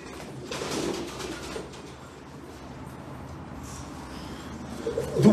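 A blue king pigeon cooing softly at a pigeon auction, low murmuring calls against quiet room noise, with a sharper knock or scrape near the end.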